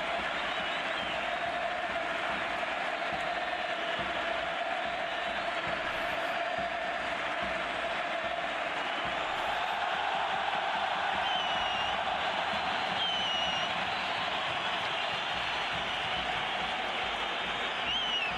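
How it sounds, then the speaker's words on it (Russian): A distant, steady roar of Barcelona fans filling a football stadium during a Copa del Rey match against Getafe, a broad and continuous wash of crowd noise with no distinct voices standing out. "Сегодня громче всего радуются болельщики Барселоны"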